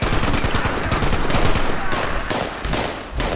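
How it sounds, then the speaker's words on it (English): Rapid automatic gunfire from the video game Fallout 76, loud and sustained in dense bursts across the whole stretch, with a brief dip and a final burst near the end. "I shot him right in his fucking head."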